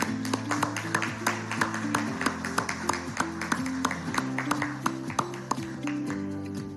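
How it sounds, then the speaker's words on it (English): Rhythmic audience clapping at a live public event honoring a rehabilitated home buyer, regular claps running throughout over loud sustained music. "Round of applause, please."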